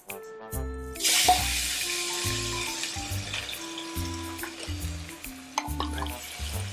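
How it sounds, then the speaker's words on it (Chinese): Chicken pieces stir-fried in black sesame oil over moderate heat sizzle steadily while a utensil scrapes and knocks against the pan in repeated strokes, close and fairly quiet, with no talking. "把鸡肉好放下去，等一下放下去煸炒，先煸炒鸡肉。"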